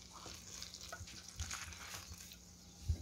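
Boiling liquid is poured over tapioca starch in a countryside kitchen, scalding it with a faint, soft hiss and sizzle, broken by a few small knocks of a spoon or pan.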